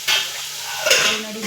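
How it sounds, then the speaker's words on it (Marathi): Boiling water is poured into a hot pan of roasted wheat vermicelli for upma, giving a close, steady sizzling rush with two stronger surges and faint utensil clatter. "आता पाणी घालून घेऊया याच्यात"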